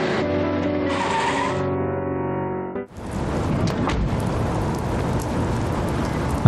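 Steady, hissing rain in the video game Death Mark starts abruptly after a music passage cuts off, then continues as a close, even downpour.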